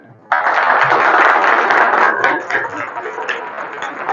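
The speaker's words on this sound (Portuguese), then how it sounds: "Recebam com uma salva de palmas, Ricardo" A live audience bursts into sustained applause at an entrepreneurship expo, the dense clapping starting abruptly and holding loud before thinning out toward the end.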